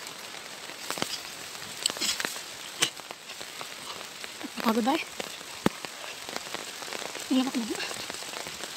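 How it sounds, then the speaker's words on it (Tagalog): Steady rain patters on surfaces in a mountain area during the rainy season, a soft continuous hiss with scattered drops and brief speech over it. "Yan po, lumakas naman yung ulan."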